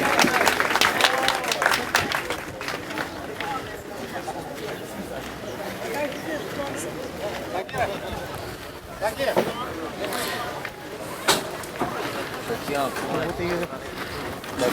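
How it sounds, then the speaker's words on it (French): Spectators applaud at a pétanque quarter-final match, with steady clapping and crowd noise running throughout under a commentator's voice. "ça mérite beaucoup d'applaudissements ça."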